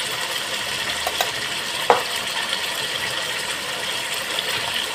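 Chicken being stirred in a pan with masala, onion paste, chili paste and tomato ketchup, giving a steady broadband sizzle and frying hiss with a few soft scraping clicks from the stirring, one sharper clink near the middle.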